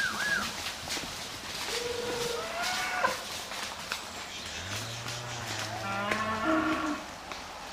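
Cattle low repeatedly in a Welsh field, several moos at moderate distance, some deep and drawn-out, others higher, over a breezy outdoor background with faint movement noise.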